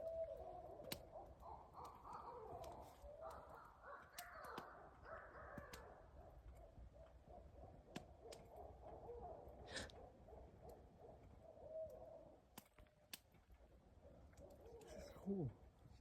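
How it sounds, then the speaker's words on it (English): Owls hooting at night at a campsite, soft low hoots calling back and forth at a distance, mixed with nearby rustling, handling noises and scattered clicks, with people occasionally talking. "that was a bunch of owls communicating"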